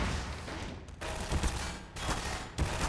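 Automatic gunfire rattles in Half-Life 2 Episode Two as dense, loud bursts broken by brief pauses, with sharp crackling shots throughout.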